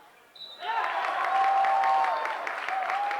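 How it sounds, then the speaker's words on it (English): A vocal home crowd cheers and applauds at a 2006 high school boys volleyball match against Bethel Park, a steady roar in the background under a commentator's talk. "you can probably hear the vocal Bethel Park crowd in the back looking for even more blood and points"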